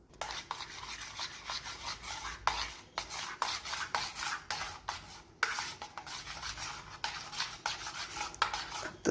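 A spoon stirs cream in a bowl to churn homemade butter, giving a continuous rhythmic scraping and rubbing with repeated strokes, close and fairly quiet with no talk.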